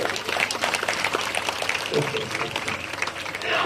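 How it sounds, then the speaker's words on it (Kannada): A congregation at a Methodist revival meeting breaks into sustained applause, many hands clapping in a dense, lively wash that fills the hall for a few seconds. "ಒಡಿರಿ ಚಪ್ಪಾಳೆ."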